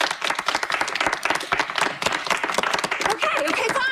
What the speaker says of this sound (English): Please, let's vote with applause.